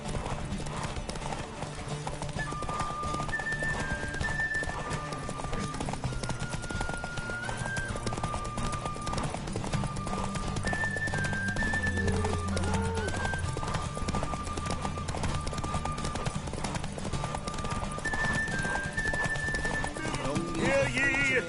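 Horse hooves clip-clop at a steady galloping rhythm through a race in The Witcher 3, with Geralt riding Roach in the Erasmus Vegelbud Memorial Derby, set under continuous game music and occasional whinnies, loud and close throughout.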